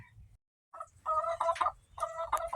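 Easter Egger chickens vocalising close by in a coop, loud bursts of gobbling, clucking calls in two clusters separated by brief pauses, with no talking.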